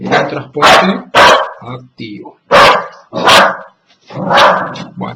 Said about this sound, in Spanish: ese es mi perro, mi Westie.